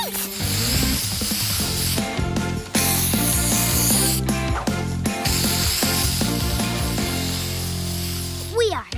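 Cartoon spray blaster gadget effect from a children's construction-vehicle show: dense whirring, ratcheting mechanical clatter with spray bursts running nearly continuously, loud and close over background music, ending with a rising zip.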